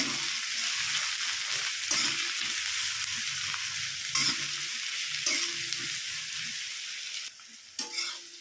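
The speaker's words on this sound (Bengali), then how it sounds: "পেঁয়াজগুলো একটু লাল লাল করে ভেজে নেব।" Steady broadband sizzle of onions frying in a pan, with periodic bursts as they are stirred; no voices.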